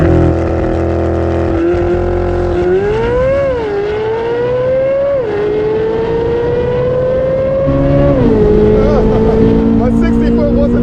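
A C8 Corvette Z06 fitted with a drag pack launches down a drag strip, its engine roaring loudly and climbing in pitch through several rapid gear changes before fading into the distance.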